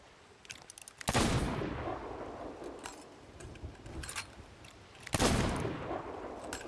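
Two loud gunshots ring out a few seconds apart during a Sea of Thieves PvP fight, each a sharp blast with a short decaying tail over faint game ambience.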